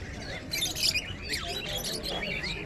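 Cockatiels chirp and tweet in quick, overlapping bursts at a busy pigeon market, with a crowd murmuring faintly underneath.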